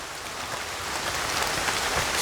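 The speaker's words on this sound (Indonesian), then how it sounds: "langsung turun hujan" Steady, dense rain falling in a forest, a continuous even hiss of drops close by with no pauses or voices.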